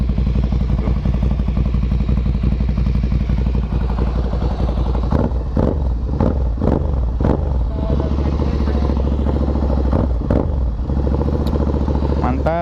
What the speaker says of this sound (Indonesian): Gitulah suaranya. Inline 2 silinder 803 cc.